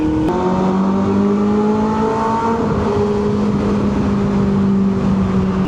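A Benelli 600 inline-four motorcycle revs inside a tunnel, a loud, close, sustained engine roar with a tonal whine that eases slightly and then holds steady, with no talking.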